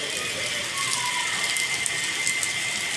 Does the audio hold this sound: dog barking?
no